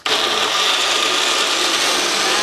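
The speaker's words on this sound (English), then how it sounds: "It's an upside down blender." Loud, steady upside-down blender whir mixing a smoothie, with a high grinding edge, running continuously and close up without a break.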